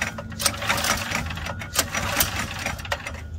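A small engine on a motorized vintage Victory pedicab being pull-started gives a rapid, rattling mechanical chatter with uneven pulses, close and fairly loud throughout.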